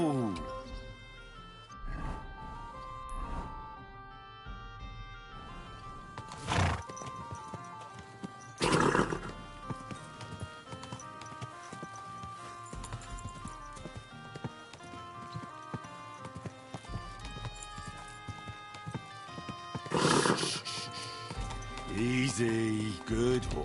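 Horse in Kingdom Come: Deliverance 2 with repeated clip-clop hoofbeats under game music, and loud neighs or whinnies breaking out several times; someone talks over it at points.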